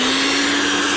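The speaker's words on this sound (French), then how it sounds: "on laisse au Thermomix V6 le soin de mélanger la pâte" Steady loud whirring hum of a Thermomix V6 mixing dough made with 40 grams of brewer's spent grain, a constant motor drone throughout with no talk.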